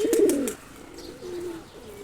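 Pigeons, including Pak Dashta, Surma, Dobaj and Almond breeds, give a clear, close coo at the start, followed by softer, lower cooing from the flock.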